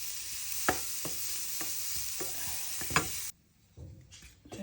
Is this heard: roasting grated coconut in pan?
yes